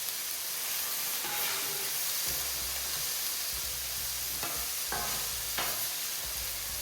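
Steak for Philly cheesesteaks sizzling on a Camp Chef flat top griddle, a steady close frying hiss with occasional spatula scrapes and clinks as the meat is turned.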